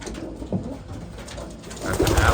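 Racing pigeon cock bird cooing inside a loft, a low soft murmuring coo that swells louder toward the end, close and steady with no talk over it.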